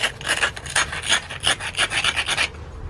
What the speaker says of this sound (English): I'm just trying to trim this edge up so that I can abrade down